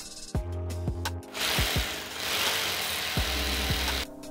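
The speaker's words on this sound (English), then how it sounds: "once I took the measurements, I just drilled this piece onto the wall" A power drill whirs in short bursts with rising and falling pitch as it drives into the wall to fix a speaker mount, with gaps and ratchety clicks between bursts, close and fairly loud.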